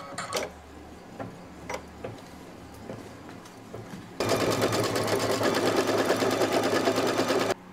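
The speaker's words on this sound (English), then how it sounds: "So now it's going to do the tack down stitch for the background fabric." An embroidery machine sews a tack-down stitch on background fabric for a candy corn quilt appliqué, starting after a few light clicks with a loud, steady, rapid mechanical whir that runs to the end.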